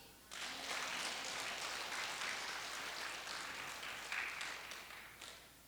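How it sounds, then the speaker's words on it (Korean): Applause from an anniversary gathering at a church community home, a broad steady wash of clapping that starts abruptly and holds evenly, fairly distant and soft, tapering slightly at the end. "박수."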